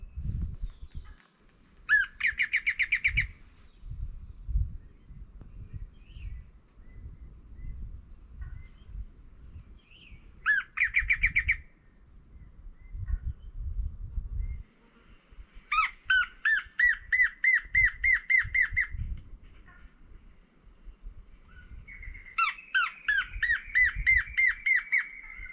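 Recorded bird song played back for birding, with repeated bursts of high, rapid squawking calls and trilled phrases, then bird calls in response over a steady background of insect or cricket chirring, outdoors with faint low rumble.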